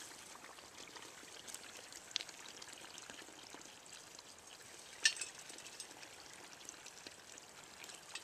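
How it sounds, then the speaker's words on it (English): Spring water trickles and streams steadily out of a pipe set into a wild spring, a faint, continuous flow heard alone with a couple of small splashes or clicks partway through. "just trying to get the clearest water I can to come out of this pipe right here"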